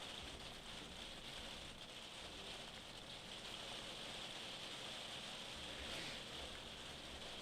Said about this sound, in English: I hope my microphone isn't picking up the rain in the background.